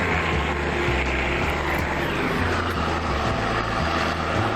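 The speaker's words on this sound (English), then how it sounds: "let this helicopter pass" A helicopter passes overhead with a steady, loud rotor and engine drone that fills the air from start to finish, with no talking over it.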